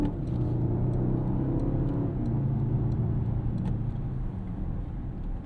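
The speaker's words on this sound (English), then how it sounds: "You do hear this V8, it's got good induction noise, you do get the odd boost noise" Mercedes-AMG GLE 63 S with its 603 hp biturbo V8, heard from the cabin on an evening drive: a steady, full low engine drone under road noise, holding even throughout.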